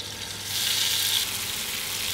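Strips of beef tenderloin fry in olive oil in a pan, giving a steady close sizzle that swells briefly louder, with no talking.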